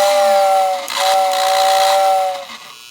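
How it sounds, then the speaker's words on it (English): A 1945 Lionel 2026 toy steam locomotive whistle sounds twice, a shrill steady tone with a breathy hiss, close and loud, the second blast held longer. "Let's hear the whistle."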